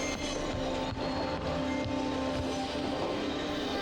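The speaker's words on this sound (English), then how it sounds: "In the rice ball sequence, we hear the train." A train rumbles past continuously with a steady low roar and faint rhythmic clacking of wheels on rails.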